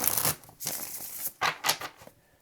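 Tarot cards are shuffled close by in several quick, papery bursts separated by short pauses, ending in silence.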